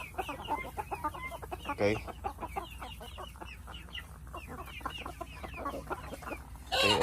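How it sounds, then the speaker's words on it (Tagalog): A flock of chickens with more than forty chicks clucks and peeps continuously and close by, dense rapid calls throughout, with a brief voice near the end. "meron tayong mga sisiw na mahigit 40"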